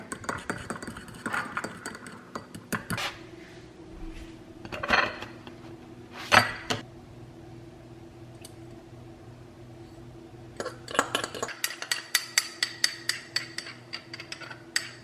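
A spoon clinks and scrapes against a dish while microwaved chocolate sauce is stirred, irregular taps and knocks in bursts with quiet gaps, close and fairly soft.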